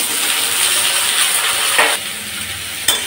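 Vegetables frying in a pan with a little onion, a steady close sizzle and hiss throughout with brief stirring scrapes, no voices.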